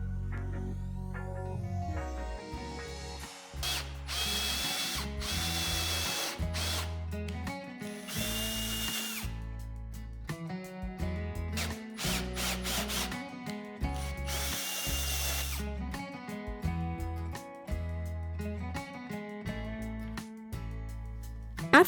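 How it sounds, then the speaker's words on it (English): A power drill bores holes through a wooden board for a tea light candle holder, its motor whirring loudly in repeated bursts with short pauses and changes in pitch as the bit cuts in and backs out. "drill halfway through with both the sizes on one side, then flip the board and then drill the inner circle followed by the outer one"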